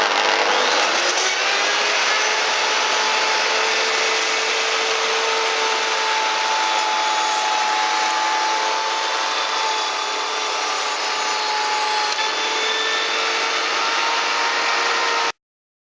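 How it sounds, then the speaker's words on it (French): A router fitted with a 20 mm bit on its guide cuts a rebate in wood, a loud, steady high-pitched whine with a gritty cutting rasp that runs unbroken for about fifteen seconds, then stops abruptly. "Fixé sur le guide de la défonceuse, j'ai monté une fraise de 20 mm correspondant à la feuillure que je veux faire"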